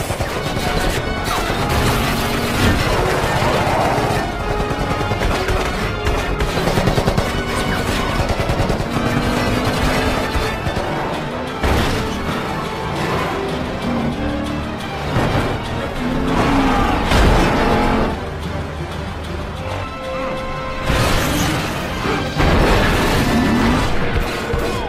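Film action scene of a car chase with gunfire and cars exploding, dense bursts of shots, crashes and booms layered over engine noise and music, loud and continuous.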